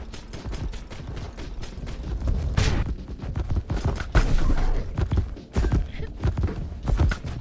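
Rapid bursts of gunfire in the video game MiSide crackle almost continuously, dense and loud, with heavier booming shots mixed in.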